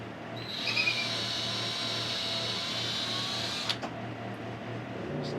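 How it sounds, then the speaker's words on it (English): A power drill whines softly and steadily while boring mounting holes in removable panels, with a low hum underneath and a couple of brief clicks near the end. "And just drill them out softly"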